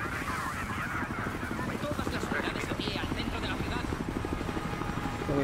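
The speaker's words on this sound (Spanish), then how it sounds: "Un helicóptero." A helicopter in the video game Battlefield Hardline thuds with a steady rotor chop throughout, moderately loud, while someone talks over it.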